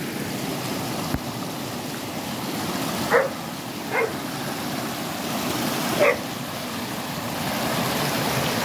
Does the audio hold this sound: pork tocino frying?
no